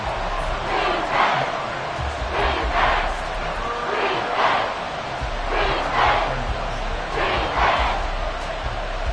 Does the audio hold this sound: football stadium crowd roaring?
yes